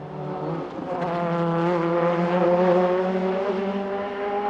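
A 1998 Le Mans race car blasts along the Mulsanne Straight, its engine a loud, sustained, buzzing whine that swells in and holds a steadily rising pitch.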